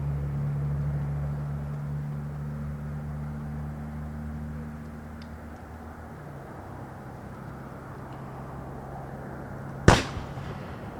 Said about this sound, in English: Now we're going to have the firing of a salute, and hopefully the powder is dry today.